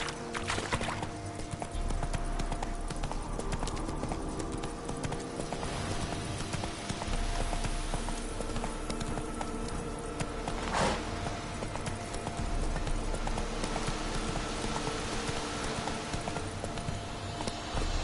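Roach the horse's hooves clip-clop steadily at a trotting rhythm in The Witcher 3 game, with a continuous ambient bed underneath and no talking.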